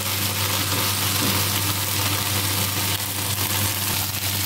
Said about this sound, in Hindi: यहाँ पे हमारी भिंडी फ्राई हो रही है जब तक, और हम इसको अच्छे से फ्राई करेंगे बिल्कुल।